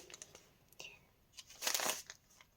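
Soft crinkling and rustling of thin paper surprise packets in short irregular bursts, with a louder crackly stretch near the end, close by and otherwise quiet.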